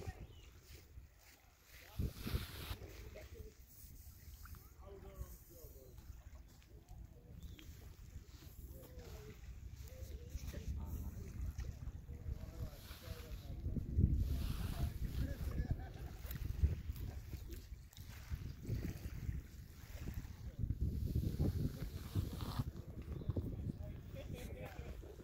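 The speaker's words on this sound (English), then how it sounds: "It's a big mountain. It's always windy up here." Steady gusting wind buffets a mountaintop, rumbling and swelling in waves, with occasional faint voices underneath.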